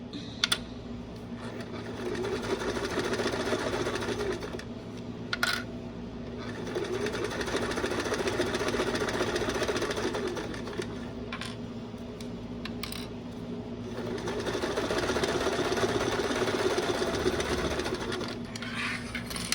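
A sewing machine stitches vinyl for a sling bag in long, steady runs with brief pauses between them, running close and fairly loud on its own with no talking.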